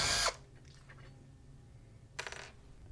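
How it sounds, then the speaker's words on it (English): Allen screws being backed out of the end cap on a Clearwater 2-inch pressure chamber: a short loud burst from a power driver, a few faint ticks, then a second brief whirring burst. "first we have to remove all the Allen screws"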